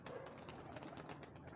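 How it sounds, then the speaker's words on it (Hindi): Pigeons kept on a rooftop loft coo softly and continuously, a faint, steady murmur of birds close by with no talking. "ये हमारे कमांडो कबूतर है जी"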